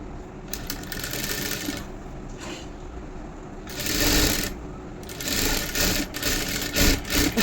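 A sewing machine stitching blouse fabric, running in steady bursts of fast mechanical clatter with short pauses between, loud and close.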